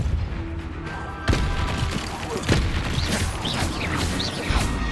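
Confringo and Depulso spell blasts in the Hogwarts Legacy video game, a loud sudden boom followed by a dense run of crashing impacts and magical whooshes through busy combat noise.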